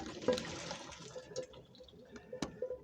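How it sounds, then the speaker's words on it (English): Water draining off cooked shrimp for ramen noodle primavera, a quiet splashing trickle with a few short gurgling bursts over three seconds. "Then drain out our shrimp."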